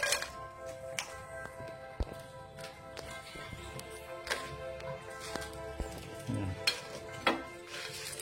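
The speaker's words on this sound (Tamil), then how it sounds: "சூடானதுக்கப்புறம் இந்த வத்தலை போடுங்க." Dried red chillies fry in hot oil for bottle gourd chutney, a soft sizzle under scattered sharp taps and clinks of a utensil against the pan, fairly quiet and close, with no talk.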